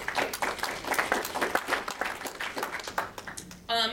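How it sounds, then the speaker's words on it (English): Conference audience applause at an energy-management event on data centers, a dense wash of many hands clapping at moderate level throughout, ending with a brief sharp burst. "I think you should give yourselves a round of applause."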